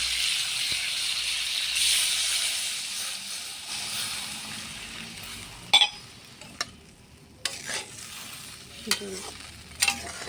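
Fish roe hits a hot pan for an Air fish curry and fries with a steady broadband sizzle that fades midway, followed by scattered sharp scrapes and clacks of stirring.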